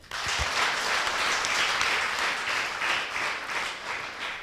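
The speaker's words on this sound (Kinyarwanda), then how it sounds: "Reka twongere Imana amashyi." Sustained applause from a church congregation, a dense steady patter of many hands clapping throughout, fairly loud and continuous with no voices.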